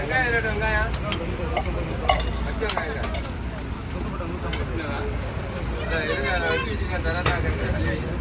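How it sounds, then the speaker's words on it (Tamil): Chicken curry and beef curry dosas cook on a restaurant griddle with a steady sizzle and scraping, clattering spatula strokes, while voices chatter underneath. "சிக்கன் கறி தோசை பீஃப் கறி தோசை எல்லாம் பயங்கரமாக ரெடி ஆகிட்டு இருக்கு"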